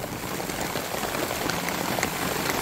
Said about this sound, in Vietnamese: Tại vì mưa đây, mọi người xem này, lớn lắm.